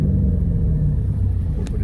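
A 2004 Cadillac CTS-V with its 5.7-litre LS6 V8, about 126,000 miles, idles with a deep steady rumble and a slight rise in revs, the parking brake set, heard close and alone.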